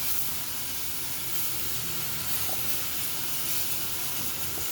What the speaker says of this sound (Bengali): এখন আমি একটার পর একটা মশলা দিয়ে এটাকে ভাজবো